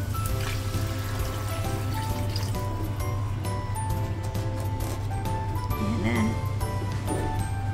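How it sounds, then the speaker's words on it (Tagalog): Water is poured onto hard leftover rice in a pot for congee, a steady trickling fill with a constant hum beneath and a voice speaking briefly. "Lagyan natin ng tubig."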